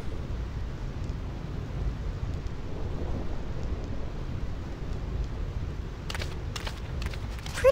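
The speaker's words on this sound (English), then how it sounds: "This storm never stops." Final Fantasy X storm: steady heavy rain hisses and rumbles low and continuous, with a few sharp crackling thunder hits near the end, no voices.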